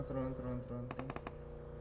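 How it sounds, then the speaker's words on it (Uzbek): A quick burst of several rapid gunshots from PUBG Mobile cuts in over a voice. "Mana otishma bo'lyapti."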